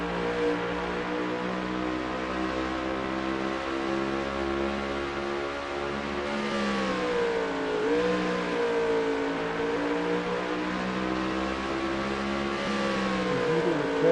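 Race car number 77 at Watkins Glen, its engine howling steadily under hard driving, with rising and falling pitch sweeps around shifts and corners, loud and continuous throughout with no talk.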